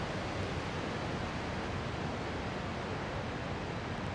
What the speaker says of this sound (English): We just climbed a waterfall.